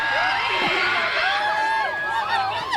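Students in a university crowd at a street performance in Bulacan scream and cheer together, a dense, loud wall of high shouts and whoops that stays continuous and close throughout.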